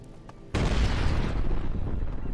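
Loud, sustained explosion in the ELEX II video game, bursting in suddenly after a quiet half second and rumbling on without fading.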